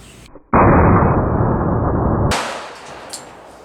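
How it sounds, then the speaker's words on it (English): A 230-grain full metal jacket round, Sellier & Bellot ball ammunition, fired from a handgun: one sharp, loud blast that booms briefly before cutting off, followed by quieter ambient noise. "I'm shooting Cellar & Bellet 230 grain full metal jacket."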